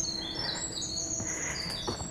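Birds singing outdoors, thin high chirps and whistled song lines carrying faintly over quiet ambient background, with no one talking.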